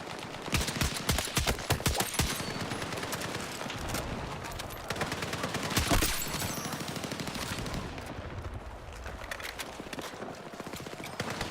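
SG-553 carbine fire in a video game: rapid automatic bursts crackling in repeated volleys, loud and near, easing off briefly before another run of shots, with other gunfire mixed in.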